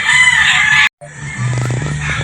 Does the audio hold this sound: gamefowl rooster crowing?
yes